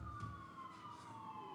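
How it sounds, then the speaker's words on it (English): A siren wails outside a building, faint and distant, a steady tone sliding slowly downward under a low rumble of traffic; no one speaks. "It's like 4 sirens going off right outside."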